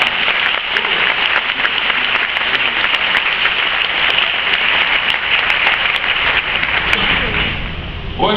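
A church congregation at a marriage seminar applauds the families in a loud, dense wash of clapping that holds steady for several seconds, close and full, then eases slightly near the end.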